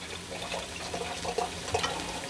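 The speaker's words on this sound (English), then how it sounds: "I'm gonna go ahead and pour myself a glass" Marlborough Sauvignon Blanc pours into a glass with a soft, close trickle and light splashing in a kitchen, brief and gentle with no talk.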